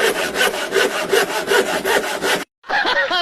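Hand saw cutting through wood, a fast steady rhythm of loud rasping back-and-forth strokes close by, with a short pause before the sawing resumes.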